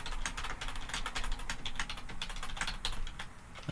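Rapid, continuous clatter of keys on a computer keyboard, close and fairly quiet, with irregular bursts of keystrokes and no talking.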